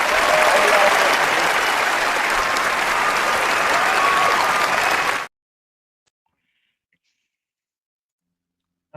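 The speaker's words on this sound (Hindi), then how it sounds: "हम भी ताली बजा रहे" An audience claps steadily in dense, sustained applause for about five seconds, then it cuts off abruptly into near silence.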